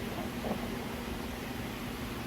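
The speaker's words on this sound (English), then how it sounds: "Got the fan running," An electric fan runs steadily beside a 20-year-old used boat being cleaned on a hot day, giving a continuous broadband whoosh with a low hum, close and constant throughout.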